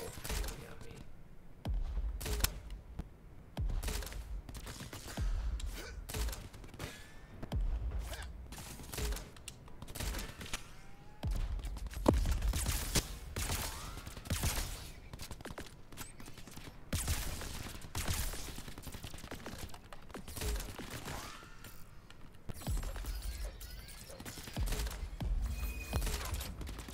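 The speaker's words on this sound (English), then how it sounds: "These people shooting at me." Enemy gunfire in the video game Crackdown 3 crackles in repeated bursts and scattered shots throughout, fairly quiet and steady, with someone talking at times over the shooting.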